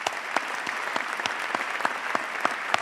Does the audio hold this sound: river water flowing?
no